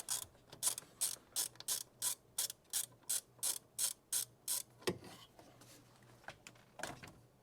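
A ratchet clicks in quick, even bursts while undoing a 7mm bolt on the intake of a 2025 Ford Explorer ST, about a dozen strokes, close and fairly quiet, then some softer handling sounds.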